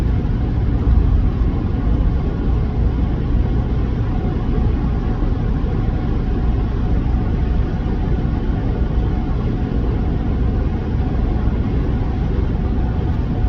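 Steady, dense road and engine rumble from inside a moving car, continuous and loud throughout with no talk over it.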